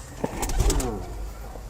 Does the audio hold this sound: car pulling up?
no